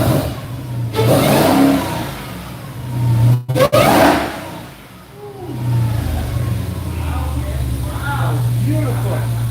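A new car's engine revs in a garage with two sharp bursts of acceleration, then settles into a steady engine drone, close by, with people talking and reacting over it.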